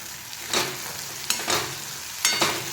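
Curry leaves and onion frying in oil in a pan, a steady sizzle broken by three or four bright scraping stir strokes, close and fairly loud, with no talking.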